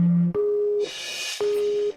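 A telephone busy signal beeps alone and loud, a steady tone that breaks and repeats in regular on-off pulses.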